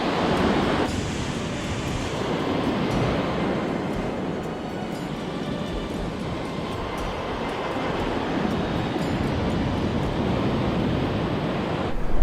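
Ocean waves roll onto Ripiro Beach in New Zealand, a constant broad roar of surf with wind buffeting the microphone throughout and no voices.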